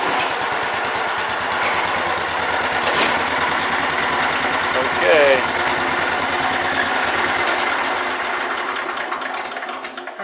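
A riding lawn tractor engine chugs and sputters in a steady rapid rhythm during yard work, laboring uphill with slight surges, close and constant beneath occasional talking.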